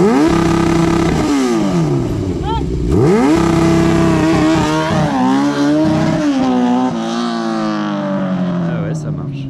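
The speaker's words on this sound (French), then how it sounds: "Tu restes accéléré et tu débrailles d'un coup." Loud revving of a cheap budget cafe racer motorcycle using launch control: the engine pitch sweeps up and down several times, held high and then dropping sharply, with speech-like voices faintly mixed in.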